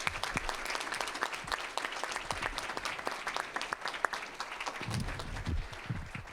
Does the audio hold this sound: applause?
yes